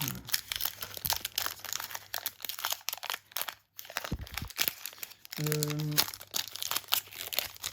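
A Pokémon card pack wrapper is torn open from the bottom, giving bursts of close crinkling and ripping foil with a tonal squeak near the end, while people talk throughout.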